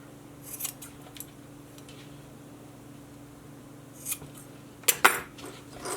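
Scissors snip through cords for a DIY dog collar, giving a couple of quick, crisp cuts near the end after a quiet stretch with faint handling noise and a low background hum.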